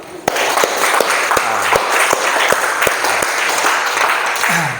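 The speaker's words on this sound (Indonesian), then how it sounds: "Oke, beri tepuk tangan untuk kita semua lo." Classroom applause from a group of students at a teacher-training session, dense sustained clapping with a few sharp louder claps, filling the whole span close up.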